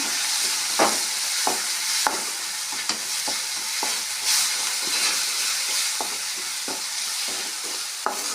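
Spices and salt are stirred into a sizzling bitter gourd (kadachi kai) seasoning in a hot pan, with a constant loud fry hiss broken by about a dozen sharp, irregular spoon scrapes and knocks.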